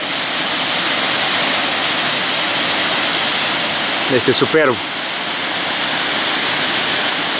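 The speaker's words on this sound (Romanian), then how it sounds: "iar în continuare am mers la cascada Duruitoarea" Steady roar of the Duruitoarea waterfall in the Ceahlău mountains, a dense broadband rush filling the whole clip, with a brief spoken remark near the end.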